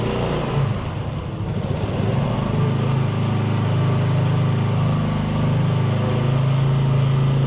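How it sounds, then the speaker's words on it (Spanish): An AKT NKD motorcycle engine holds a steady idle-to-mid rev around 4000 rpm, a constant close droning hum with no talk. "Lleve el motor a 4000 revoluciones por minuto."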